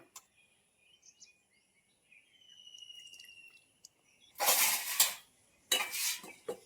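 A spoon scrapes and clinks against a pot of thick homemade kokum syrup, with two sharp bursts of metal-on-metal contact near the end after quiet, faint movement.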